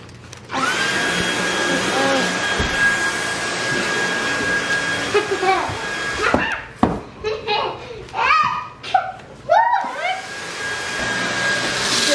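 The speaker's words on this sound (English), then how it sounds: "vacuuming." A household vacuum cleaner whines steadily at close range for several seconds, then cuts out as people talk and a voice is heard, and the machine's whine starts up again near the end.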